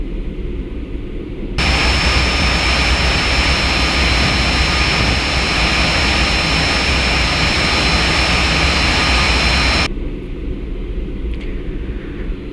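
A Cessna Citation Jet CJ1 on a Lufthansa training flight, its jet engine roar loud and steady for several seconds before dropping away to a quieter cockpit hum with a faint whine.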